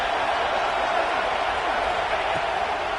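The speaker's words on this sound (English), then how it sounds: "This crowd bringing the energy and noise early." A stadium crowd at a college football game makes a loud, steady roar that holds evenly throughout, a broad wash of cheering with no clear breaks.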